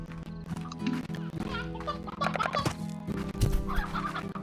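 Hens cluck repeatedly in the video game Slime Rancher, with bright, choppy calls scattered over game music and background effects.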